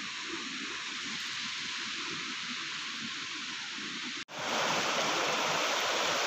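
The Rangeet River in Sikkim rushes fast over stones, a dense, continuous roar of flowing water that stays loud and close throughout, briefly cut off and then returning slightly brighter.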